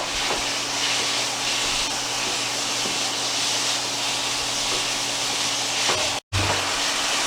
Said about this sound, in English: Meat's almost done. It's getting to a nice brown.